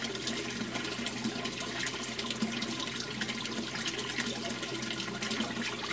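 A U siphon in an aquaponics grow bed begins to drain with a faint, continuous trickle and splash of water under steady low background noise.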